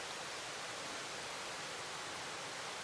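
Creek waterfall sliding down rocks on a mountain trail in the Appalachians, a steady, even hiss of rushing water that holds constant throughout, faint and unbroken.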